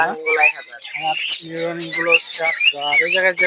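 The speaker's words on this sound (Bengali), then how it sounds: "এখানে এক জোড়া কোকাটেল আছে" Cockatiels at a bird market, a run of loud, harsh squawks and shrill calls in quick bursts, close by, with little pause between them.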